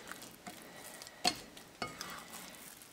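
Kinnathappam batter with ghee is stirred in a pan, giving a faint low sizzle broken by a few soft scraping strokes and one sharper clink.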